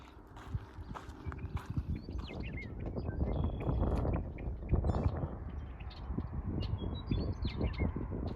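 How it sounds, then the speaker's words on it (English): A meadowlark sings on the open prairie, its song notes faint over steady rhythmic running footsteps and wind. "You can hear the beautiful call of a meadowlark."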